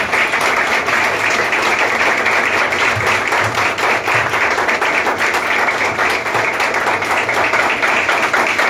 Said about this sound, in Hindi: जोरदार तालियों के साथ हम उनका स्वागत करेंगे